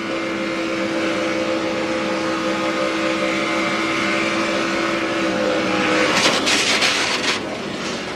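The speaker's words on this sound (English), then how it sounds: "You can hear him on the gas hard." A NASCAR truck races flat out at the 2014 SFP 250, its engine holding a loud, steady high-pitched drone before a brief burst of rougher noise near the end.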